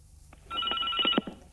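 A telephone rings for an incoming caller on a call-in religious talk show, giving one short ringing burst of about a second that starts and stops cleanly over faint background hum.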